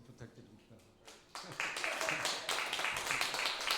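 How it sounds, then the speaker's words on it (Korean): A church congregation bursts into welcoming applause for the pastor leading the choir, the clapping swelling after a quiet start and holding as a dense, close wash with some voices mixed in. "박수 부탁드립니다"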